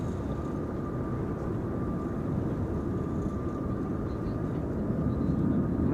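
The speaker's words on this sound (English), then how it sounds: "KLM flight 1776 is also on short final, arriving from Berlin, an A321neo" A KLM Airbus A321neo airliner on short final approach into Amsterdam Schiphol Airport, producing a loud, steady low engine roar with a faint whine, continuous and unbroken throughout.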